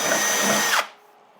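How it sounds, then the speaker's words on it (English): A power drill bites into the hood of a Honda CRX with a loud, high whine that holds steady, then cuts off abruptly and leaves quiet room tone. "So we're going to drill a hole."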